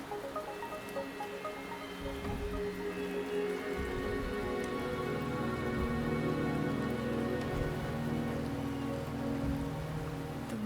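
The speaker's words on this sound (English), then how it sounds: "The rain is subsiding, and the sky will soon clear." Rain falling in the Wuthering Waves video game, a continuous steady patter on surfaces that thickens slightly after the first couple of seconds, with a few heavier splashy drops and no voices.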